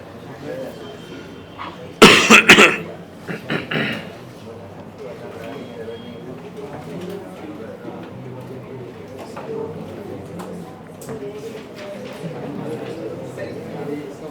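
A man coughs in a loud burst of several harsh, close coughs, followed by a couple of weaker ones, with quieter room sound and background murmur afterward.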